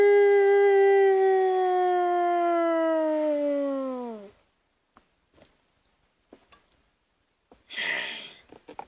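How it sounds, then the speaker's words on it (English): A dog gives one long, loud, close howl that slowly falls in pitch and then cuts off, followed by a few faint taps and a brief burst of noise. "I howl."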